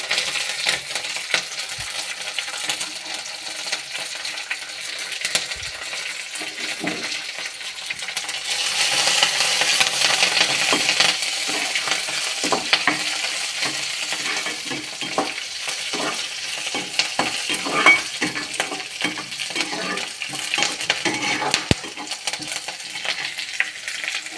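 Curry leaves and green chilies frying in hot oil with mustard seeds in a pan, a steady loud sizzle with crackling pops and occasional stirring scrapes throughout, with no talking.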